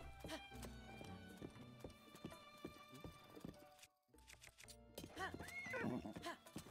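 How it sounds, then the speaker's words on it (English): A horse in Zelda: Breath of the Wild whinnies while its hooves clip-clop in a steady rhythm, with a game music bed underneath and a short drop to near silence partway through. "I guess my horse is just doing his own thing now."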